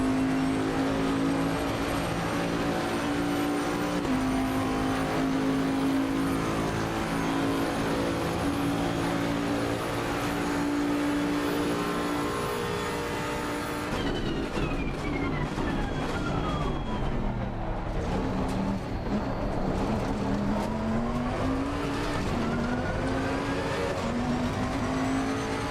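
Ferrari race car in Assetto Corsa Competizione at Monza, a loud continuous engine drone with rising and falling revs through gear changes, shifting in pitch as cars pass close by.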